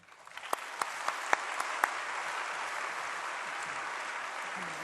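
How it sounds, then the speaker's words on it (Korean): A church congregation applauds to welcome a pastor stepping up to preach, a few sharp claps at the start swelling into steady, dense clapping that fills the room and carries on evenly to the end. "나오실 때 박수로 환영해 주시기를 바랍니다."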